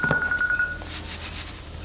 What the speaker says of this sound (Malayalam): ഫോൺ അടിക്കുന്നു. എന്റെ ഫോൺ അടിക്കുന്നു.